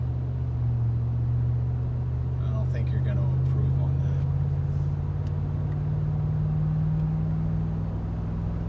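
A 2016 Ram 2500 pickup with a 6.4-liter Hemi V8 and Magnaflow direct-fit muffler drones at a steady low idle or cruise, its deep continuous rumble running under a man's speech throughout.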